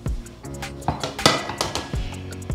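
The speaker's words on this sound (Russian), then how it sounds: "У меня беру сухую сковороду, сухую, без масла, без всего. Я ее ставлю на плиту" A dry frying pan without any oil is set down on a stove with several close metallic clanks and clatters, sharp knocks ringing out over a few seconds in a home kitchen.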